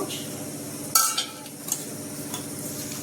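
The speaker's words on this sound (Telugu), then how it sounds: "ఫస్ట్ ఉప్పు కారం మొత్తం దీనికి పట్టేలా కలుపుదాం" Chicken pieces for fry are being mixed by hand with salt, chilli powder, coriander powder and turmeric in a bowl, giving soft close stirring and squelching with a few sharp clinks of a spoon or dish.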